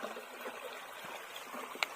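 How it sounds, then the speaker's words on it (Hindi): Small waterfall in a village stream after no rain, water flowing like a river: a steady, soft rushing and trickling wash throughout, fairly close and even, with no voices. "देखिए कैसे एकदम नदी जैसा पानी बह रहा है झरना में"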